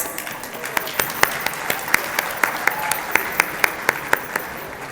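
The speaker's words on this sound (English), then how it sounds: "please join me in giving a warm and enthusiastic round of applause to the Canadian Tamil Chamber of Commerce" Applause from a gala audience at an awards dinner for a chamber of commerce, steady clapping with a few sharper individual claps standing out, mixed with faint voices.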